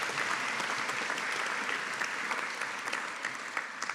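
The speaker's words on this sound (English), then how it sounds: "So I think a big round of applause for all our Masters of Education candidates today." Audience applause for Master of Education graduates at a college graduation ceremony, a steady wash of clapping from a large hall that holds for several seconds with no talk.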